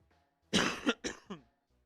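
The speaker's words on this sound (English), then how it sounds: "Sorry about the cough, guys." A man coughs a few times in quick succession, close and fairly loud: a harsh burst followed by two shorter hacking coughs, with quiet around them.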